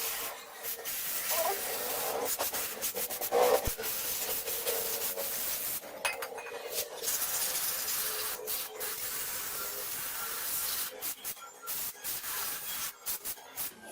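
Continuous scrubbing and rubbing on the CVT parts of a Yamaha Mio Aerox 155 scooter, cleaning off dirt with a spray cleaner; a close, steady abrasive swish that breaks into short strokes and pauses.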